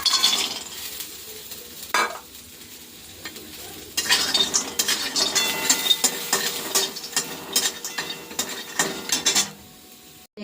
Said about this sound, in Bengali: তো এখন বড়িটা ভেজে নেব।